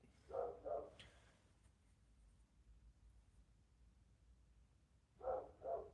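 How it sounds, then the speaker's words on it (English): A Springer Spaniel barks indoors in paired woofs, two at the start and two more near the end, with a quiet room hum between them. "I have to tell that dog to shut up."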